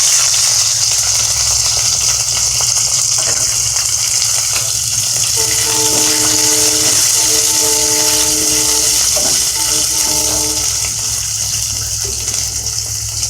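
Cauliflower florets drop into hot oil already seasoned with whole cumin, bay leaves and grated ginger, giving a loud, steady sizzle and hiss that runs the whole time, with a few faint tonal whistles partway through.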